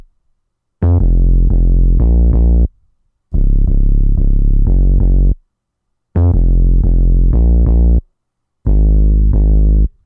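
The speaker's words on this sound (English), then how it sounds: "it's a normal bass, and then I just distorted the heck out of it" A normal bass, heavily distorted with Fruity Blood Overdrive for a hyperpop beat, plays four loud, buzzing phrases of quick repeated notes, each separated by a short silence.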